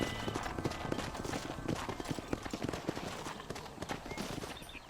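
Horse hooves clip-clop in a rapid, steady rhythm on a ranch in the Red Dead Redemption video game, loud and close, with a brief whinny and no talk over it.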